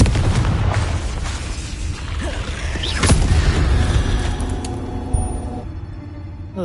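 Booming blasts from the Confringo blasting spell in Hogwarts Legacy roll out as a dense, loud stretch of explosive noise, with one sharp burst standing out midway.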